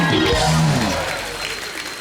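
Applause from an audience at a stage show honoring a singer, with a brief tonal vocal or musical phrase at the start, then a broad wash of clapping that slowly fades.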